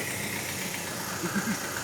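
A Hyundai H1 van with two million kilometres on it idles at a Korean car meet, a steady low engine rumble with a slight knock close by and no voices over it.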